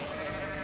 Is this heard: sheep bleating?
yes